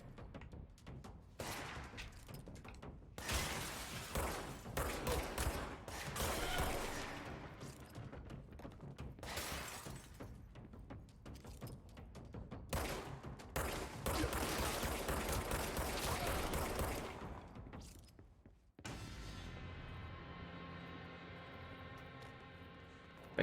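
Rapid gunfire in the supernatural action game Control, dense bursts of shots and impacts crackling almost nonstop, close and loud, then a sudden cut to quieter ambience.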